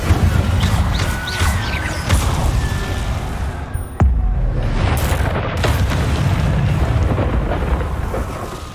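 An Incendio fire spell cast in Hogwarts Legacy, a loud, dense booming rumble like a fiery blast that runs continuously, with a sharp crack partway through and crackling, roaring texture throughout.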